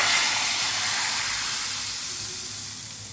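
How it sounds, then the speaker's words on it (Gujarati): A hot tempering of chillies, curry leaves and asafoetida is poured over Gujarati dal, giving a loud, close burst of hissing sizzle that slowly fades. "હવે આ સરસ વઘારને દાળની ઉપર રેડી દઈશું"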